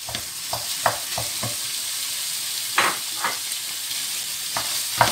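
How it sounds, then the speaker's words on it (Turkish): Minced meat and onion frying together in a pan give a steady sizzle, broken by several clacks and scrapes of a utensil stirring the mix, with no voices heard. "Soğanla kıymayı ben bir arada koyuyorum arkadaşlar. Bu kıymayı da koyuyorum."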